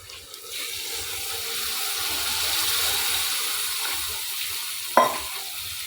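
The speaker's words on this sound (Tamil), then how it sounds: "இப்போ வந்து இது கூட தண்ணி சேர்த்துக்கலாம்" Water pours steadily into a hot pan of frying ingredients with a soft sizzle, a continuous rushing hiss, ending with a brief clatter near the end.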